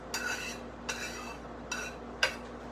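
A utensil scrapes leftover egg flakes from a slightly dirty frying pan in four short, separate scrapes spaced about half a second apart. Each stroke is close and crisp over a quiet background, with a low steady hum underneath.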